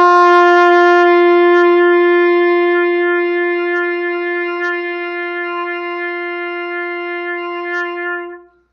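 One long open G rings out on a trumpet, a clear brassy tone held steady for roughly eight seconds. It begins strong, softens slightly over time, and cuts off at the end, played solo without speech.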